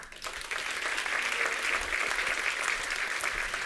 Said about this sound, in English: Let's give her an applaud.